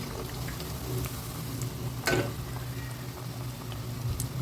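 Carrot vadai fry in oil with a soft, steady bubbling sizzle, broken once by a short scrape as they are turned.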